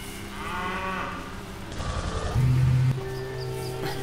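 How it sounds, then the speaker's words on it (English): Cattle mooing inside the racing sim rFactor 2 on a cow-filled field at Spa-Francorchamps, several low drawn-out moos overlapping in a steady crowded chorus with one loud close call near the end. "I'm surrounded by cows!"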